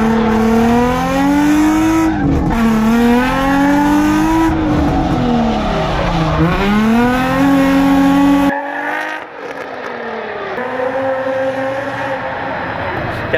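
A car manoeuvring between cones during a parking test, with the engine revving up and down in rising and falling sweeps and a brief drop near the end, loud and close.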